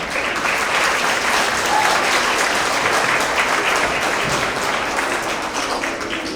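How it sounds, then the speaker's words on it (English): Applause fills a school award assembly for kindergarten through second grade, a sustained crowd of hands clapping at an even, loud level for several seconds without speech. "let's give them a big round of applause as well"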